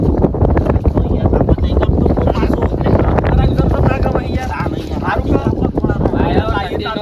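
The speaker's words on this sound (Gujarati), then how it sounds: "જબરજસ્ત છે વાયરો." Strong wind blows in loud, steady broadband gusts that roar throughout, with people talking over it.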